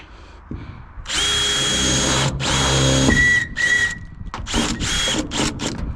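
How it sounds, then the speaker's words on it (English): A power drill whines loudly in bursts into metal on a pressure-washing truck build, then several short drilling pulses follow, close up with a metallic ring. "gotta tighten the drill bit a little bit"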